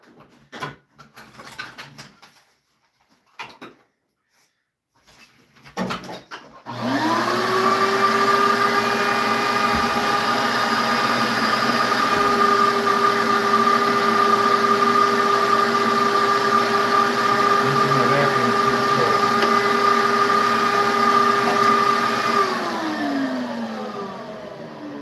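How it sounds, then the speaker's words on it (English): A vacuum cleaner runs in a woodworking shop, starting abruptly after some brief knocks and handling noises, then holding a loud, steady whine with a rising pitch before it winds down at the end. "let me just vacuum real quick."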